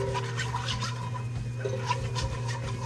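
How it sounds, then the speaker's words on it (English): A whisk scrapes steadily around a pan as flour is stirred into melted butter, a soft rhythmic swishing and scraping over a low hum, with no voices. "And I'm gonna put in my flour. And I'm gonna just keep whisking."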